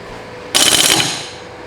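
A big rear axle nut on a 1965 VW Bus is tightened with a single loud, rattling mechanical burst of about half a second that tails off quickly into quiet shop ambience.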